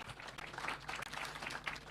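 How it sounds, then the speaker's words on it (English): Audience applause for panelists at a Kenyan parliament and senate induction retreat session, a steady wash of clapping at moderate distance that runs without pause through the whole short stretch. "I'd like us to give a good applause to the panelists."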